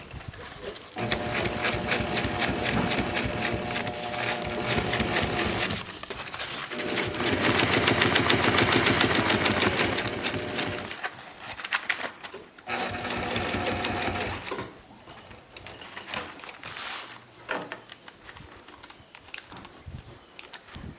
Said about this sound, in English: That's why you need to sew the pocket first. Sew these together.